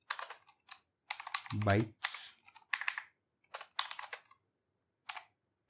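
Keys on a computer keyboard are tapped in short bursts of quick clicks separated by pauses, close and clear, with a brief spoken word in the middle.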